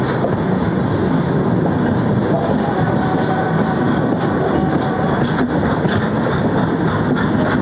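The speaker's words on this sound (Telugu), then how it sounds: "లోడు బండి ఏదో" Goods train passing on the Vijayawada section via Eluru, heard from another train, a loud continuous rumbling roar with faint rhythmic clatter throughout, no voices.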